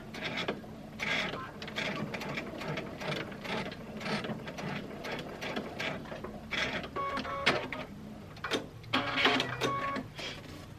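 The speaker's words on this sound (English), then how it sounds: "going to go in just a little ways so my machine doesn't eat my fabric, and then I'll back stitch." A sewing machine stitching the edge of a fabric placemat, a quiet, close mechanical chatter in short runs with pauses and backstitching, with occasional talk.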